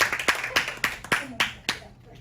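A small audience at a champagne and wine tasting claps in a short round, about eight distinct sharp claps at an uneven rhythm, fairly close, with voices audible between them and the clapping thinning out at the end.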